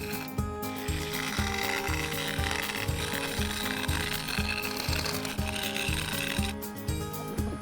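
A carbide-tipped straight cutter turns an epoxy resin and cherry wood vase on a lathe, producing a loud, steady rhythmic chatter and scraping drone that continues without a break, close up.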